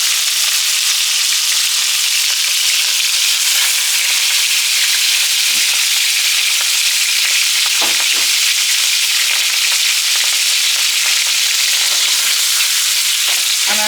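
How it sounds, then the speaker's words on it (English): Fish fillet fries skin side down in a hot pan, giving a loud, steady, hissing sizzle that holds throughout with a few small pops and no talk. "You can put your fish down with the skin side down,"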